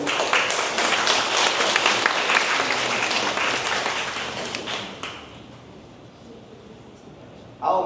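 Applause from a church congregation at a Sunday worship service, sustained broadband clapping that fills the room for about five seconds and then fades to quieter scattered claps and room noise.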